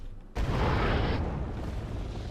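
A tank cannon fires once in the war video game Wargame Red Dragon, an abrupt loud boom that bursts out of near silence and leaves a broad, rumbling roar fading slowly afterward.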